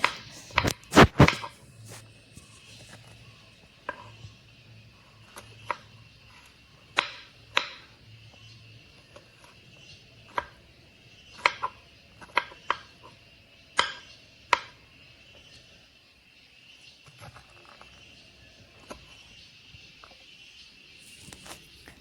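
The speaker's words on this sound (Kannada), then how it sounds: "ಸಣ್ಣ ಸಣ್ಣದಾಗಿ ಕಟ್ ಮಾಡಿಕೊಳ್ಬೇಕು." Knife chopping ridge gourd into small pieces on a cutting board: sharp, dry taps coming in irregular clusters, close and clear over a quiet room.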